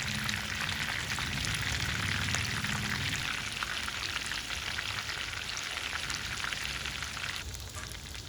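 Chicken thread strips fry in hot oil in a pan, a loud, dense, continuous sizzle and crackle heard up close with no talk.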